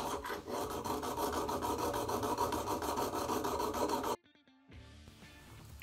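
A file rasps back and forth along the serrations of a serrated knife blade in fast, steady strokes, close and fairly quiet, then stops abruptly with faint metallic taps after.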